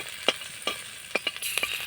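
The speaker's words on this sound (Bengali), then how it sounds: "একটু নাড়াচাড়া করে ফোড়নটা একটু ভেজে নেব।" Panch phoron, half a spoon of chopped ginger and about three slit green chillies fry in a pan, giving a close sizzle broken by sharp intermittent scrapes and taps of the stirring spoon.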